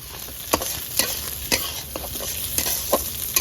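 Mung dal fries in mustard oil in a pot with a constant close sizzle. Regular scraping stirs punctuate it about every half second.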